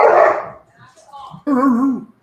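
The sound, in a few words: dogs barking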